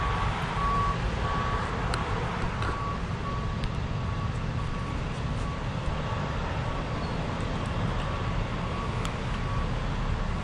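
A steady high reversing beep from a tow truck repeats over loud, continuous engine rumble from the large idling truck nearby, at a police crash scene.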